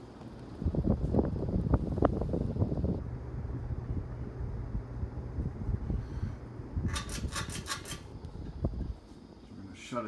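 An original 1930s 52-inch Hunter ceiling fan runs with a steady, low whirring rumble and airy rush, with a brief faint rhythmic chatter near the end.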